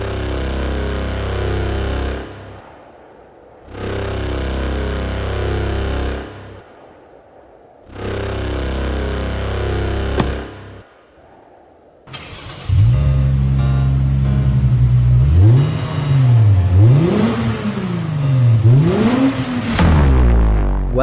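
A 2007 Toyota Mark X 250G GRX120 engine revs several times, rising and falling in pitch in repeated swells, loud and close after a stretch of steady, fuller sound.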